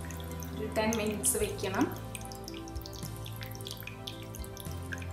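Rasmalai milk is poured over a soft homemade milk cake, making a brief liquid splashing and trickling sound close by, while someone talks over it.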